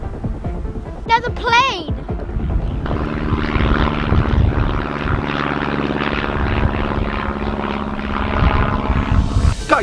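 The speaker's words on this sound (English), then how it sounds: "I don't know if it's different planes going over us, or whether it's the same plane just going around and around and around" A propeller airplane drones steadily overhead, rising from about three seconds in and holding loud and continuous to the end, with a brief voice or whistle-like sound near the start.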